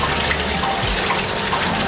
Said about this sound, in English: So we're gonna wash the yam now before we boil it, so you can get any loose dirt that will float to the top.